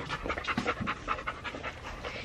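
A dog pants steadily in quick, rhythmic breaths close by, the panting continuing evenly without a break at a modest volume.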